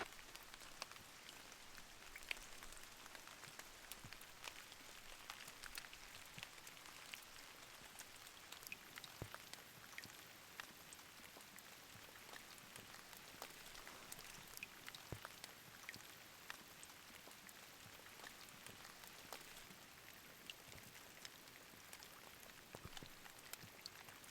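Steady rain pattering on a tent during winter camping in a thunderstorm, a dense even patter of drops with occasional sharper taps, soft and continuous with no voices.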